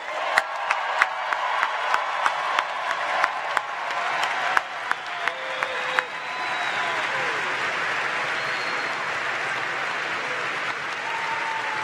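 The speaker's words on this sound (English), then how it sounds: "Let's give our graduates another round of applause" A large commencement crowd at Cal Poly's 2015 fall ceremony applauds its graduates, a broad wash of distant clapping with a few sharp, louder claps standing out early before it settles into an even roar.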